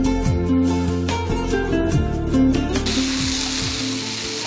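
Boiled macaroni tipped into a hot pan of chickpeas and stirred, a steady close sizzle and frying hiss with scraping, brightening into a louder hiss near the end.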